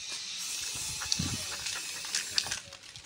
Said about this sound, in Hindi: लग रहे स्प्रे